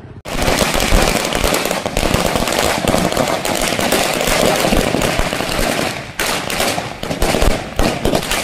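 Firecrackers burst in a dense, continuous crackling barrage at an election victory rally, loud and close, with a brief dip before the rapid popping resumes.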